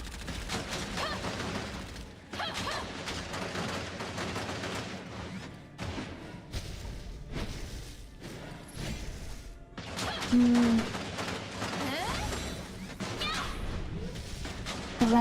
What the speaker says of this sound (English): let's just shoot this guy up.